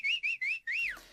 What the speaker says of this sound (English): I have a whistle track where I have source files